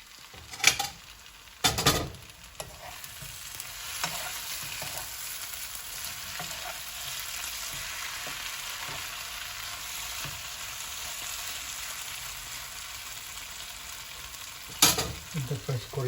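Mutton curry fries in a pan in the Sri Lankan style, a steady soft sizzle running throughout, broken by a few louder scraping and clanking stirs of a utensil against the pan near the start and end.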